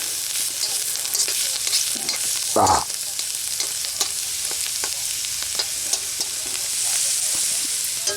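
Onions frying in a pan during outdoor backwoods cooking of a wild chanterelle and pokeweed scramble, a steady close sizzle with scraping stirs and one louder clatter partway through.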